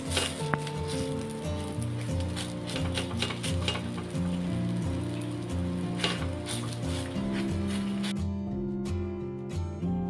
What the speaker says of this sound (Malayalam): ഇനി നമ്മൾ തയ്യാറാക്കി വെച്ചിരിക്കുന്ന മാവ് ദോശക്കല്ലിൽ വെച്ചിട്ട് മൃദുവായിട്ട് ഒന്ന് പരത്തി കൊടുക്കണം.